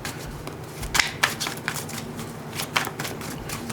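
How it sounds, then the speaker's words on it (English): Tarot cards handled and laid out on a surface, giving soft, scattered slaps and rustles with a few sharper flicks, close and quiet. "I'm going to go ahead and lay out 5 more cards on top."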